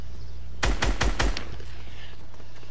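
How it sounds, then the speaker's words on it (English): A quick burst of four sharp, loud gunshots in evenly spaced succession rings out in a video game, then fades into a steady low background hum with no talking. "am I the only one that hears shooting?"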